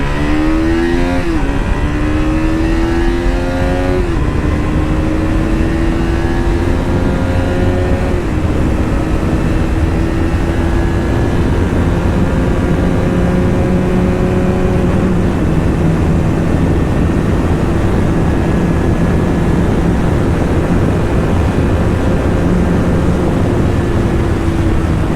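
A KTM RC200 motorcycle accelerates hard through the gears, its engine whine climbing in pitch, dropping at each shift and climbing again, loud and close over constant wind roar.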